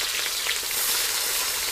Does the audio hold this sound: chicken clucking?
no